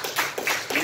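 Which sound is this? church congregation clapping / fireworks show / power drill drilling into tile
church congregation clapping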